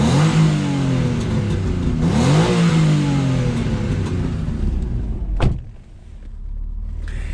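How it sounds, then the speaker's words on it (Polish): A 2003 Alfa Romeo 166 3.0 V6 with a sport exhaust silencer revs hard with a deep, throaty exhaust note, the pitch climbing and dropping, then one sharp bark before it settles to a lower rumble. "jak ten samochód pięknie brzmi"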